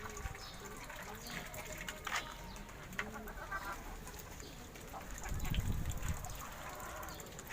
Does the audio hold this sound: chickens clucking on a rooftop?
yes